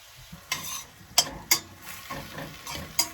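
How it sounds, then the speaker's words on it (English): Mushrooms cooking down in a pan for a pork tenderloin Marsala sauce: a steady low sizzle with a few sharp clinks and scrapes of a utensil against the pan, close by and without talk. "So, we're just cooking down the mushrooms."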